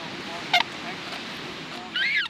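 Swans confined at a canal in Bruges give two brief nasal honking calls, one short and one longer, over a steady background hum of the waterside.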